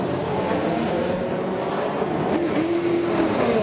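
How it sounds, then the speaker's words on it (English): IndyCar race cars accelerate out of the pits at Homestead-Miami Speedway, with loud high-pitched engine whine rising as they pull away amid the continuous roar of other cars on track. "now both cars are off for Team Penske"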